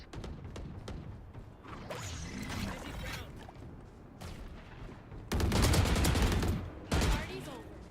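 Gunfire in a Valorant match (GEN vs. T1) sounds as several bursts of shots, loudest near the end, layered with whooshes and impacts under steady game noise and commentary voices.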